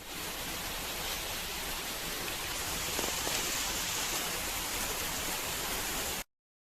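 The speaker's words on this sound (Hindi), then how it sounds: "पूरा दिन मौसम अच्छा था, अचानक आ गई है बारिश।" Steady, dense rain pours down continuously, a broad hiss of drops hitting surfaces, fairly close and uninterrupted until it cuts off abruptly.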